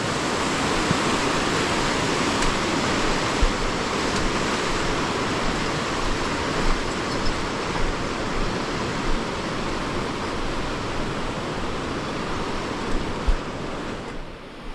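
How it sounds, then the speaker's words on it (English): Water rushes out along a Pacific Crest Trail crossing, a steady, broad hiss of flowing water with faint scattered knocks, continuous and fairly near, with no talking. "That's the water going out."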